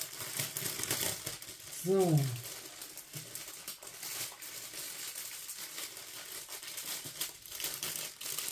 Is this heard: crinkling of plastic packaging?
yes